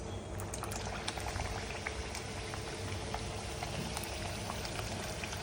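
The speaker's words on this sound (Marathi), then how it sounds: "फ्राय करूया समोसे" Samosas deep-frying in hot oil over low heat, a steady dense bubbling and crackling hiss that stays constant throughout with no voices.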